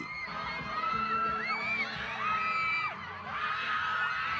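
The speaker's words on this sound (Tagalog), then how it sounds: "At hiyawan ang isinalubong ng fans kay Sofia Pablo." Fans at a mall show in Davao City scream and cheer in a sustained, loud wash of high-pitched shrieks and whoops, with piercing voices rising and falling throughout.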